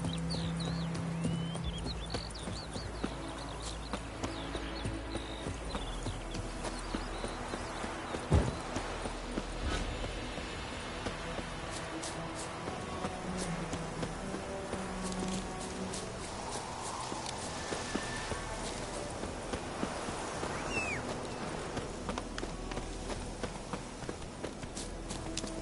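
Galloping horse hooves in a video game, a steady rhythmic clip-clop running continuously under a busy mix of music and game effects, with an occasional neigh.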